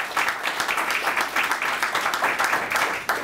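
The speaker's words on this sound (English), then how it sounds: "I think we ought to give a big round of applause to Jane White" A ceremony audience gives a sustained round of applause for a person at a marker dedication, steady dense clapping from many hands filling the whole stretch without pause.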